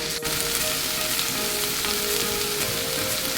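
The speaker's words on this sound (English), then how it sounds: "You wanna cook this down until the onions are translucent" Onions, garlic and jalapeños fry in a pan with a steady, dense sizzle that holds level from start to finish, close and fairly loud, with no voices.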